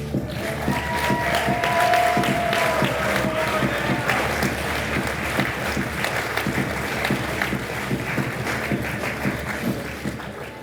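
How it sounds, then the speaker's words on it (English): Audience applause at a business awards ceremony, a sustained wash of many hands clapping in a large room, steady and fairly loud, with faint crowd murmur underneath. "I got a better round of applause than I'm with somebody else."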